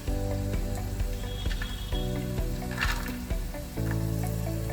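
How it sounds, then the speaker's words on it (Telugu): Cashews and almonds roast slowly together in a pan over a low flame, making a continuous close sizzle with recurring soft stirring scrapes and clicks. "నేను కాజు బాదం ఇప్పుడు రెండు మిక్స్ చేసేసాను అలానే సిమ్లో పెట్టుకొని మెల్లిగా రోస్ట్ చేసుకోవాలి"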